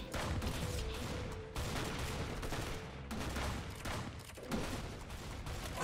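Rapid bursts of gunfire from the Roblox shooter Arsenal crackle almost nonstop, loud and close, with a couple of brief lulls between volleys and no voices.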